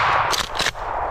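Shotgun fired while hunting snowshoe hare with beagles on public land in Wisconsin, two sharp blasts in quick succession, loud and outdoors.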